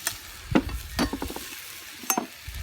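Capsicum being stirred into a browning curry in a cast camp oven, with a few scraping, clinking strokes of a utensil against the pot over a low sizzle, close and fairly loud, with no talking.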